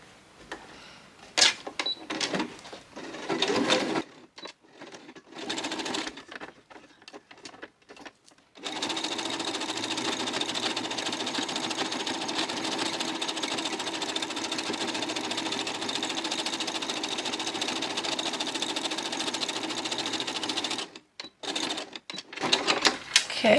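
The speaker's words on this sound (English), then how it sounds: "I'm going to do a zigzag on this one, I think" Sewing machine zigzag stitching scrap fabric, short stop-start bursts of rapid mechanical clatter, then a long unbroken run of fast stitching before more brief bursts at the end.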